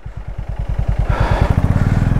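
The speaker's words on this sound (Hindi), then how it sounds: "भारी बाइक है यार, सैडल बैग है पीछे" A heavy motorcycle loaded with saddle bags on a ride in North Sikkim idles with a loud, close, thumping beat. Partway through it revs up and the pulses run faster and rougher, with no talk heard over it.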